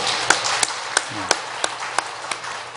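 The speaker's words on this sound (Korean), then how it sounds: "박수로 우리 한번 격려해 주시기 바랍니다" A church congregation claps during a Sunday service, sharp hand claps landing in a loose, steady rhythm against a broad wash of room noise, moderately loud.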